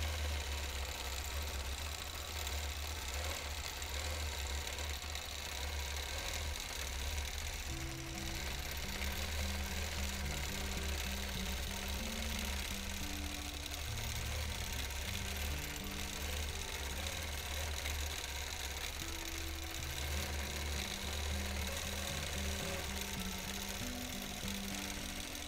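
A sewing machine runs steadily while free-motion quilting feather motifs on a small wholecloth quilt, a continuous mechanical whir with rhythmic stitching pulses and no talk over it.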